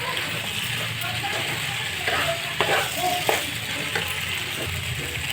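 Pasta with spices stirring and sizzling in a pan over a high flame, a steady close fry with scraping stir strokes and brief louder bursts.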